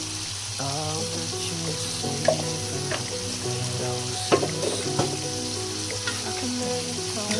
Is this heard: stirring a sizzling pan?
yes